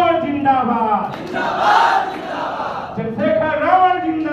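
A political gathering crowd loudly chants a zindabad slogan for Chandrashekhar Ravan in two rising bursts of massed voices, answering a leader at a Bhim Army review meeting.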